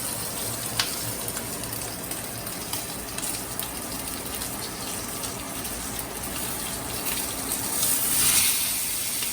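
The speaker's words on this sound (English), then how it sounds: "The oil has rendered, the fat is rendered from the lamb. I'm just searing it on its side." Lamb chops sear on their sides in fat rendered from the lamb, giving a steady close sizzle and crackle that carries on without break, with no one talking over it.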